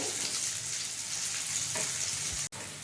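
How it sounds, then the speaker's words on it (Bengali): Soya chunks sizzle and crackle steadily in a hot pan for soya chilli. A few scrapes of stirring come through near the end. "এভাবে বারবার অনবরত নেড়ে দিতে হবে, তাহলে খুব সুন্দর লাল করে ভাজা হয়ে যাবে।"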